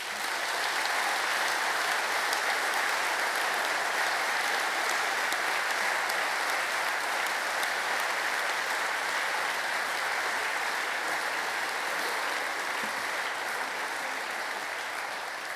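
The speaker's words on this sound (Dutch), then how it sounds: "En daarvoor verdienen jullie een enorm applaus." Sustained, dense applause from a large audience at a Dutch PvdA party election congress, steady and loud throughout with no talk over it.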